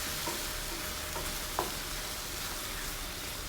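Prawns in honey garlic sauce cooking in a pan over a low flame, giving off a faint steady sizzle with a soft stir and one light tap partway through.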